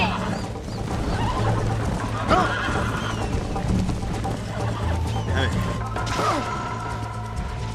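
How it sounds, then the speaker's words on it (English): Video game horse whinnies over a continuous clatter of galloping hooves, loud and close, with someone talking at points and faint fowl-like clucks in the mix. "This horse is an asshole."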